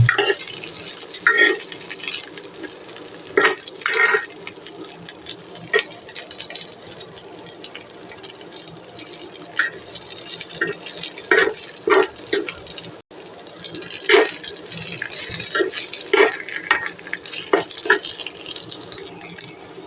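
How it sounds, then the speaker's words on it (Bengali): Fried taki fish being stirred into a curry in a pan, irregular wet scrapes and soft clicks of a spoon against the pan over a low simmering hiss, close and fairly loud with no talk. "মাছগুলো দিয়ে এগুলোর সাথে আবার মিশিয়ে নেব"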